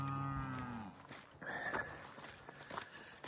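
Cows on a farm moo at evening, one long low moo up close followed by fainter lowing and shuffling hoof steps in the background.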